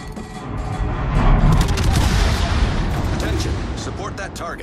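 Naval gunfire in the World of Warships video game from the battleship Illinois, heavy booming salvos rumbling under voice callouts, with loud sustained low-end roar and scattered sharper cracks.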